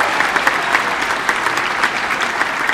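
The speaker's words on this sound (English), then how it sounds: "can we give Belinda a round of applause?" Audience applause at a school music department winter concert, a dense, steady wash of clapping held at an even level for the full stretch, close and loud, with no talk over it.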